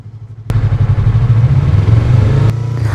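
A Yamaha R3 manual motorcycle idles at a standstill, then its engine revs up and holds loud, throbbing and close while the clutch is pulled in, with two sharp clicks framing the rev before it settles back.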